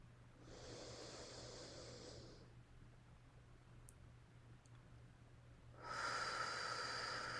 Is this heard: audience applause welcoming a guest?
no